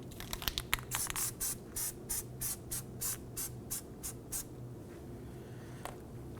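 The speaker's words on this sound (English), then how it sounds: "let's go ahead and spray this with some anti-seize compound" Short bursts of anti-seize compound spray hiss from an aerosol can in a quick series of rapid spurts, close and fairly quiet, then stopping, during a brake rotor job on a 2008-2011 Ford Focus.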